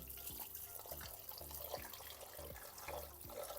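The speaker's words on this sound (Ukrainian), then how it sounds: "буду зараз заливати його теплою водою на рівні перця" Warm water pours steadily into a pot of stuffed peppers, a continuous close splashing and gurgling stream with no voices.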